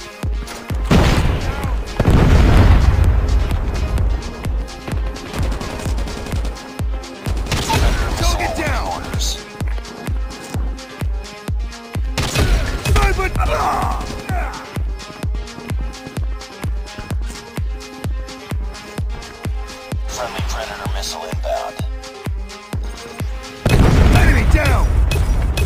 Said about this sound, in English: Sniper eliminated! Hostile predator missile inbound.